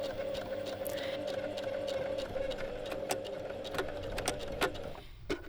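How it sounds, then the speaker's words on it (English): Domestic sewing machine edge stitching the opening of an elastic waistband tunnel closed on easy wide-leg pants, running as a steady close whir with light mechanical ticking and a brief stop near the end. "edge stitch about 2 to 3 millimeters from the edge"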